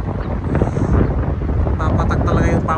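Wind blowing steadily at the Al Garhoud bridge fishing spot, a continuous loud rush buffeting the microphone throughout, with a person talking over it.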